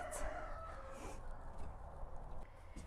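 Chickens cluck and a rooster crows inside a backyard chicken coop being cleaned out, the birds fairly close amid a steady low rumble of background noise.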